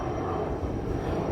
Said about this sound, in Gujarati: આપણે હેલિકોપ્ટર જાય છે